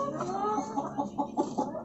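A hen clucking in short repeated bursts, close and fairly loud, in a backyard coop area with pigeons and laying hens.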